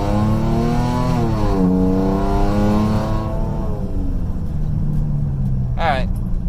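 A Chrysler 300 fitted with a Pedal Commander revs up from a dead stop, its exhaust harmonics rising and falling as it accelerates, then settles into a rumbling idle with a brief burst near the end.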